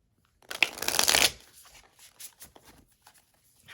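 A deck of tarot cards is riffled once in a quick, loud burst, followed by softer scattered taps and slides as the cards settle, close by with no talking.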